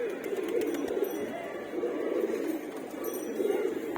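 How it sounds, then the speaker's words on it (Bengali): Pigeons coo in soft, continuous rolling waves inside a pigeon loft, fairly close and steady, with faint light clinks in the background. "তারাও তো কবুতর, তারাও তো জীব, তারাও তো একটা পাখি"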